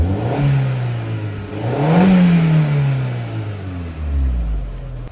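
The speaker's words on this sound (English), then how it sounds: "Let me just rev it quickly." Audi TT engine revving after its exhaust flexi pipe was welded: two rising-and-falling revs from idle, each sweeping up and settling back, close and loud with no exhaust leak evident, ending on a low rumble.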